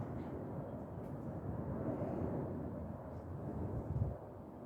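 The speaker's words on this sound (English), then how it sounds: "there's a plane going over." An airplane passes overhead as a steady, faint, distant low rumble that swells slightly and then eases, with no voices over it.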